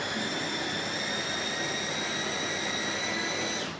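A blender running on high, whipping up a fried pickle dip: a steady, loud motor whine with a bright high-pitched hum that holds level throughout, then cuts off at the very end.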